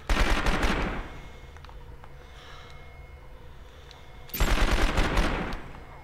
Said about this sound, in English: Where's this guy shooting me from?